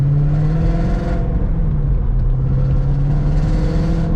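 A Ford Mustang GT350 fitted with catless midpipes accelerates past about 2,000 RPM, giving a loud, steady exhaust drone with a buzzy rasp that holds from start to end, with no talk over it.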